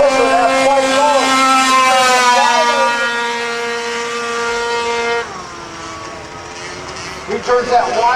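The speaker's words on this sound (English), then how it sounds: "Listen to that bike going." A youth quad racer's engine screams at full throttle on a TT motorcycle racing track, a loud sustained whine that holds steady pitch, then drops as it shifts, with a commentator talking over it.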